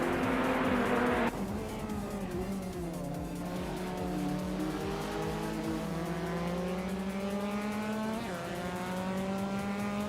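Race cars, including a 2006 Audi A4 B7, roar past with rising and falling engine tones as gears shift repeatedly, a loud burst at the start giving way to sustained revving engines climbing in pitch.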